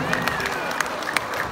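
An audience at a Mexican municipal ceremony applauds a visiting guest, a moderate wash of many clapping hands with crowd murmur underneath, fairly steady and slightly distant.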